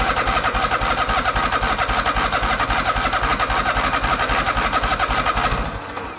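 A Toro TimeCutter zero-turn mower engine, just repaired, fires and runs with a loud, close, pulsing mechanical roar for several seconds before the sound drops away near the end; nobody speaks.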